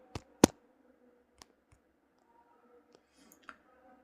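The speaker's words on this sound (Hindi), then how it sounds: "सिंपली नोटिफिकेशन लिंक ऊपर क्लिक करंतु।" A few sharp mouse clicks on a computer, two close together at the start, then sparse lighter clicks spaced a second or so apart in a quiet room.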